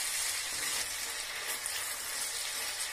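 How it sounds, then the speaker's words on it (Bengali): Garlic paste and grated chopped tomato sautéing over browned onion in a pan for palak paneer, giving a steady, close, bright frying sizzle that runs without break and with no talk. "রসুন বাটা আর গ্রেট করে রাখা এই যে টমেটো কুচি দিয়ে আমি একটু কষতে থাকবো।"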